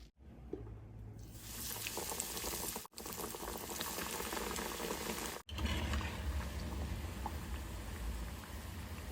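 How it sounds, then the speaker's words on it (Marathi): Radish pieces frying in hot oil: a dense, continuous crackling sizzle that holds steady throughout, broken by two brief dropouts, close and fairly loud with no talking. "ह्याच पद्धतीने आपण बाकीचीही तळून घेऊया"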